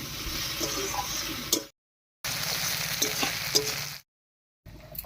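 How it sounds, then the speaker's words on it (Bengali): Potatoes and onions frying together in a pan for a cabbage ghonto, a steady close sizzle with occasional stirring clicks, twice broken off by short spells of complete silence. "আলুটাও একটু ভেজে নেব আর পেঁয়াজটাও আলুর সঙ্গে হাতে হয়ে যাবে"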